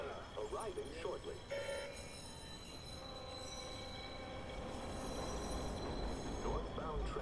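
A train pulls into a station in the Watch Dogs video game, a continuous rumbling roll with squealing wheel tones and a rising hum, while a faint voice and chirpy ambient sounds sit over it.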